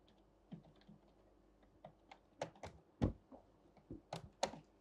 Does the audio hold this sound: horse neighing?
no